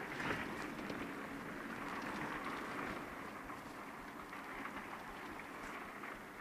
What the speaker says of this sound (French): Non, non, forte pluie là.